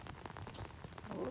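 Steady rain falling outdoors on a pasture, a faint continuous patter of drops with scattered sharper taps throughout.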